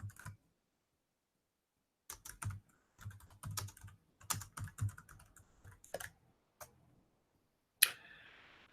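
Bursts of clattering computer keyboard keystrokes in irregular runs, separated by pauses of near silence, with a sharp click near the end.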